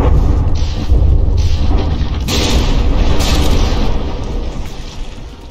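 Heavy naval guns and explosions during a battleship battle in From the Depths, a loud, continuous wall of booming blasts and rumbling impacts with sharp bursts breaking through and no speech.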